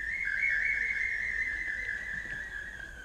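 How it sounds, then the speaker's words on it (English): A bird whistle used as a percussion instrument, with sound escaping from two sides, gives one steady, bright, sustained tone with a slight waver, close and fairly loud, heard alone. "It's a whistle. It's for the birds."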